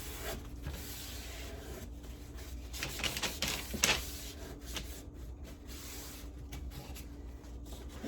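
Paper towel wiping stain off a thrifted wooden furniture piece, soft papery rubbing strokes repeating in quick bursts, faint and close, with no talking.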